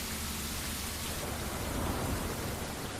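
Rain falling in a PS5 bus simulator video game makes a steady, dense hiss that holds evenly for the whole stretch, with no voices.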